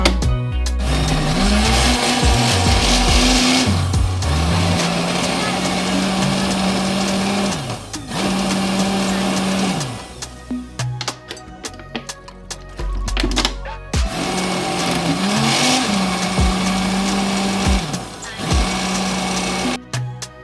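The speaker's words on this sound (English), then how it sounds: "I finished blending my unripe plantain and ripe one." A loud blender whirs steadily in several long bursts, blending unripe and ripe plantain with water, pausing briefly between runs as the motor pitch shifts and settles.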